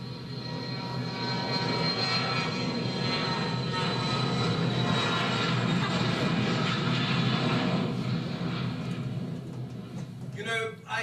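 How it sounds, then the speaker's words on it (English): An airplane roars through takeoff or landing, a loud sustained engine rumble and whine that fills the scene, with a voice briefly heard near the end. "I do hope I can get any sleep tonight until this plane's taking off and landing"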